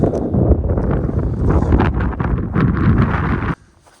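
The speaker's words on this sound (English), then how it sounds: "It's very windy outside." Strong wind buffets the microphone in loud, gusting roars for a few seconds at an abandoned mining site in Iceland, then cuts off abruptly to near quiet.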